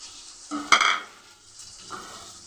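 Stuffed eggplant (gutthi vankaya) curry ingredients are fried and stirred in a pan. Two scraping stirs sound over a soft sizzle, the first louder, with a brief metallic clatter, the second gentler.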